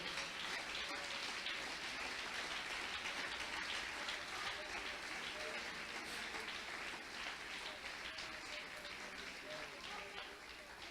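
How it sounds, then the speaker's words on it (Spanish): Congregation applause at a Sunday school church service, a faint, continuous patter of many hands that sounds almost like rain, steady throughout and fading slightly near the end. "Dale ese aplauso, Él se lo merece"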